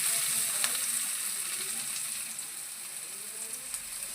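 Onions frying in coconut oil with fenugreek and mustard seeds for a lady's finger tamarind curry, giving a steady, close hiss of sizzling with a few faint crackles throughout and no talking.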